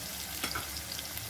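Eggplant fries in oil in a pan on a lowered flame, making a soft, steady sizzle with a brief spit near the start. It is short and fairly quiet and there is no talk.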